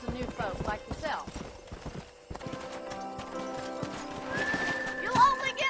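Horse hooves clip-clop in the Red Dead Redemption video game, joined by a neigh and snorts, while someone talks over the galloping; a short whistle sounds near the end.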